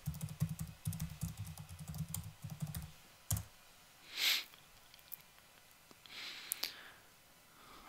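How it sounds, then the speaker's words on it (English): Email and password being typed on a computer keyboard to log in to a TikTok account, a burst of quick clicky keystrokes at the start, then a few isolated clicks and faint sniffs in a quiet room. "I type my email and now the password."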